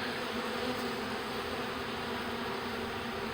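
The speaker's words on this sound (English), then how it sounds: "There's still a lot of drones flying in." Honey bee drones fly into a hive, giving a constant dense buzzing that stays even and close throughout.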